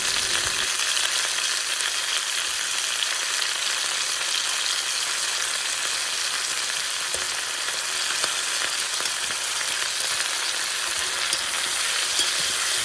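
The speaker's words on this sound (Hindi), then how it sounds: "फिर जो हमारा इधर आलू एंड प्याज फ्राई हो रहा था," Potatoes and onions with tomatoes frying in a pan, a steady dense sizzle that holds evenly throughout at close range, with occasional faint scrapes and no talking.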